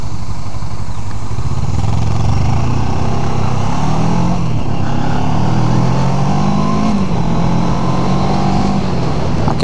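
Small motorcycle ridden at speed, engine droning loud and steady throughout with rising pitch sweeps as it accelerates through gears, heavy wind rush over the top.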